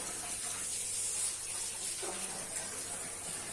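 Tap water runs steadily in a home during rainy weather, a continuous hissing stream with no talk over it.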